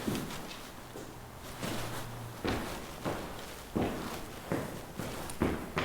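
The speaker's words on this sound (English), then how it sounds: "That's why I'm stomping my feet right now." Feet stomping on the floor of an old asylum basement, a series of about eight heavy thuds in an uneven rhythm, close and loud, with no talk.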